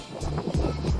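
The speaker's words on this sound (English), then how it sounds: "Yeah, really windy." Low, rumbling wind buffeting a microphone outdoors beside a 1997 Fiat Cinquecento rally car, steady and close, with gusty surges throughout.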